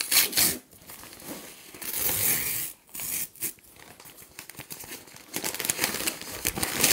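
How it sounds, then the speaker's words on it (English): An envelope is torn open and handled nearby, with crisp paper crinkling and sharp tearing bursts separated by short pauses, moderately loud and without speech. "Let's do an envelope this time."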